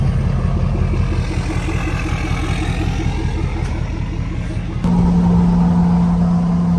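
A 2016 Ford F-250 pickup with a 6.7 Powerstroke diesel engine idles close by in a steady, loud rumble, with a slight shift in tone near the end as the idle settles; no voices.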